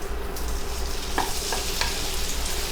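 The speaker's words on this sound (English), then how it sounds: "Once your oil is hot, you want to go first. You want to add the sausage." Sausage, kielbasa, sizzles in hot avocado oil in a pan, a loud steady frying hiss with a few soft utensil clicks and stirring scrapes over it.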